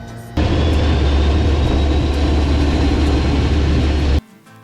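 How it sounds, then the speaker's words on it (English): A Cessna Caravan turboprop aircraft starting its engine, a loud steady roar with a rising whine that comes in abruptly, holds for several seconds and then drops away suddenly, with no talk. "Back at the plane, Carla fired up the caravan for our flight back to Sedona"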